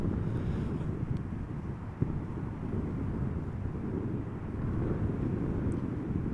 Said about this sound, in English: This is Transavia flight 6144 arriving from Alicante, 737-800, flight time 2 hours and 23 minutes.